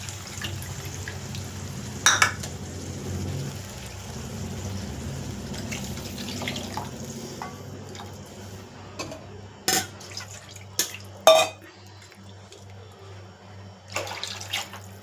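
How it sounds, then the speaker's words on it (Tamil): Water pours steadily into a pan for several seconds, then stops, followed by scattered clinks and knocks of cookware close by. "அது கொஞ்சம் தேவையான அளவு தண்ணி ஊற்றிக்கலாம்."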